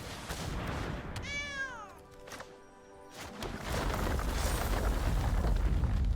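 A single drawn-out cat meow from the Scythe Cat card in MTG Arena, rising then falling, set between loud booming game effects with no talking.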